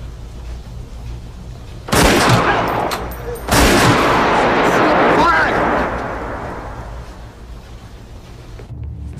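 Two sudden bursts of gunfire in a film scene, the second at about the midpoint, each followed by a long rumbling decay over a low background drone.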